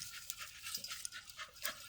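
A dog pants rapidly while digging outdoors, quick close breaths in a steady rhythm, fairly faint, with no talk.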